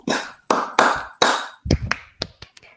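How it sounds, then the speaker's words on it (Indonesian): Hands clapping in a school guidance-counselling training exercise: several sharp, close claps in a loose rhythm, the later ones quicker and fainter, with no talk over them. "Sekarang tepuk 2."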